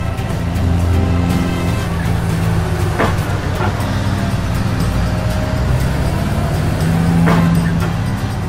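A truck drives up in a gravel pit with a steady loud engine rumble close by, a few sharp knocks partway through, and no speech over it.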